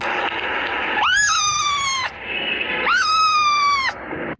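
A voice imitates a cat with two drawn-out, high meows separated by a short pause.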